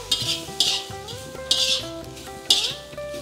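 Grated coconut with spinach frying in a pan, a soft sizzle broken by four evenly spaced scraping stirs of a utensil against the pan, close, with a sustained musical background underneath.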